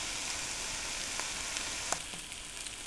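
Bacon sizzles steadily in a pan, a dense continuous hiss with occasional small pops and crackles, fairly quiet and close, with no talking.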